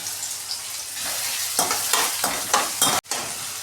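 A chili is tempered in hot oil for onion dal, giving a loud, close sizzle with crackling bursts and stirring scrapes, then a brief sharp cutoff before the frying resumes.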